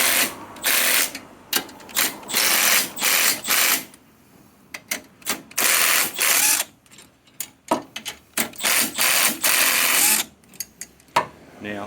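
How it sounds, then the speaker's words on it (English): A cordless power tool undoes bolts on top of a Daihatsu Hijet being fitted with a 40mm lift kit, firing in repeated loud, short mechanical bursts with brief pauses between them. "Next job is to undo these 4 bolts on top of here"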